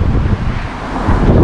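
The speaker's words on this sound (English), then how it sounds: "It's a bit windy, a bit overcast today." Steady, loud wind buffeting the microphone with low rumbling gusts on an overcast day kayaking at Lake Taupo, New Zealand, continuous throughout with no voices.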